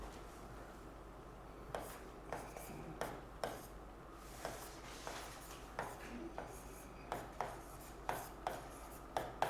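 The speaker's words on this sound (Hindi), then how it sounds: "यहाँ पर लिखते हैं लौह निर्माण कंपनियां।" Chalk or marker scratches across a classroom board in short, regular strokes, roughly one or two per second, faint and close, with a low background hum and no clear speech.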